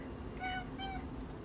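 A cat meows twice, a short nasal call followed by a second one a moment later, fairly quiet against steady background noise in a home.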